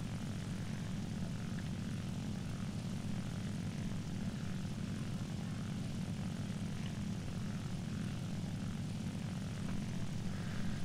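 Focke-Wulf Fw 190 A-4 propeller engine drones steadily in War Thunder, a loud continuous low throbbing hum that holds for the whole stretch, engine overheating, with no voices.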